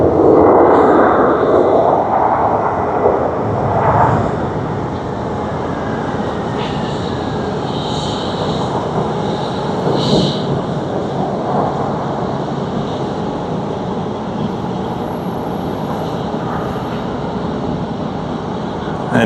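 An Airbus A350-900 jet of Singapore Airlines passes at Tokyo Haneda Airport at night, a broad roaring rumble that is loudest early on and then settles into a long, steady distant drone, with no talk.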